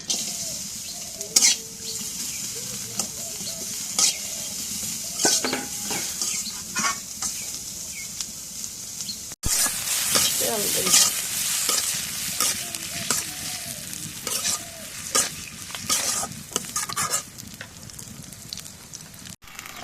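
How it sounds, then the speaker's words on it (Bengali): Onions frying in a pan for goat meat curry, a steady sizzle broken by frequent spatula scrapes and clanks against the pot, with a rooster faintly audible at times. "এখন তো খাসি মাংস রান্ধবো এখন পেঁয়াজ দিই করার মধ্যে"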